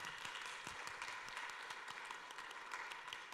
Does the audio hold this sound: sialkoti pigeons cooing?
no